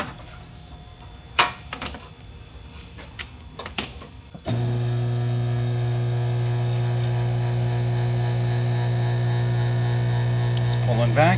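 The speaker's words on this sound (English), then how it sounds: "We're gonna put the vacuum on the system and see if it holds a vacuum." A vacuum pump switches on to pull down the air-conditioning system of a 1992 Honda Civic. A few clicks and knocks of the hose being hooked up come first, then a loud, steady motor drone runs on unbroken.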